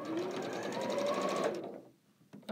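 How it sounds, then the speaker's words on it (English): A domestic sewing machine runs steadily for about a second and a half, stitching a quilting leader-and-ender scrap, then stops; a faint click or handling noise follows near the end. "Now I'm going to sew in one of my leaders and enders."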